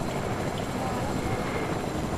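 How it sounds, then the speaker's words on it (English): A helicopter in the Fortnite video game gives a continuous steady rotor and engine drone, loud and unchanging throughout, with no pauses. "I can't believe I found a heli."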